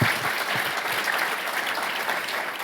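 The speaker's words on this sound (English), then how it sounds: "And you should give him some applause for that." An audience at a New York business breakfast applauds with loud, close, dense clapping that stays strong and steady throughout, with a few heavier individual claps standing out near the start.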